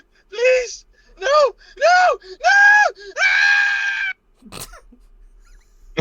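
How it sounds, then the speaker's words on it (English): A woman lets out a series of high, wavering shrieks, four short cries and then a longer strained screech, loud and close, ending in a sharp click and quiet; no ordinary speech is heard. "care to explain the context of this screeching?"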